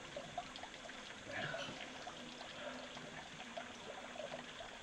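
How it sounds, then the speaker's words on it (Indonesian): Clear mountain spring water streams beside a river in a mountain gap, a steady close trickle and babble running throughout. "ketemu sumber mata air yang sangat jernih banget"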